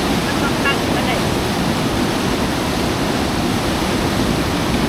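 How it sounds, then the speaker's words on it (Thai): Water rushes fast through the Wang Nong dam in Na Thom, Nakhon Phanom, a loud, constant roar of broadband noise with some wind buffeting and voices talking over it. "โอ้น้ำลงไวขนาดนั้นใหญ่เนาะมาเมื่อนั้นไหลทัก ๆ เลย"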